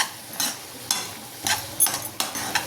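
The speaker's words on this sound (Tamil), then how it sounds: "புதினா சேர்த்து ஒரு கிண்டி விட்டுருவோம்." Mint is stirred into a frying potato curry: five or six separate scraping strokes of a spoon through the pan over a soft sizzle.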